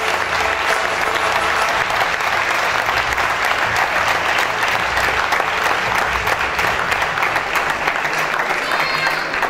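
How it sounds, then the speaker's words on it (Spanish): Sustained applause from an audience at a school awards ceremony honouring secondary students, a dense, steady wash of many hands clapping close by and fairly loud, with scattered crowd noise mixed in for the whole stretch. "Doble aplauso entonces para ella."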